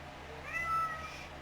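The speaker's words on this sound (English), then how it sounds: "Sorry about this, my cat." A house cat gives a single short, thin meow, fairly close, over a steady low room hum.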